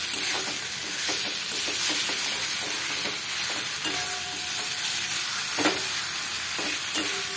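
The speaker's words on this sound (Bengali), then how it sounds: "নাড়াচাড়া করে নেবো।" Spices fry in oil in a pan with a steady hiss, broken by repeated scraping and knocking strokes as they are stirred, close and moderately loud without any talking.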